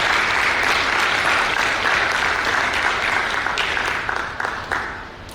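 Steady applause from a large audience of students and parents at a student festival, sustained and loud throughout, tapering slightly toward the end.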